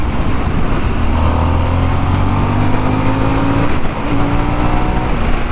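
Harley-Davidson Sportster S with its Revolution engine under hard acceleration, a loud close engine roar climbing in pitch through the gears, with a brief dip at a shift before revving up again.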